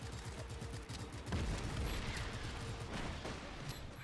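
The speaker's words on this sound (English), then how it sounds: "Grenade." Bursts of gunfire and a grenade blast in the open-world action game Just Cause 3, a dense rattle of shots with a heavier low boom midway, loud and continuous with no talk over it.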